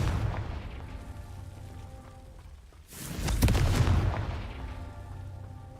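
A Confringo fire spell in Hogwarts Legacy goes off as a single dull boom with a rumbling burst midway, over a low steady game background.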